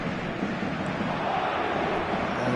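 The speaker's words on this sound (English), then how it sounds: "the matchday noise at this place is truly special" Stadium crowd noise in an eFootball video game, a dense, steady roar of many voices at moderate level, continuous with no distinct breaks.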